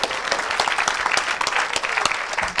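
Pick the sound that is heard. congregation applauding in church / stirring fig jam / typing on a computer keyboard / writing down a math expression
congregation applauding in church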